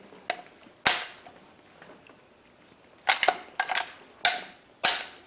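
A rifle fires outdoors in a series of sharp, dry cracks, one strong report early, then a quick cluster and two more spaced shots, each cutting off fast, with no talking.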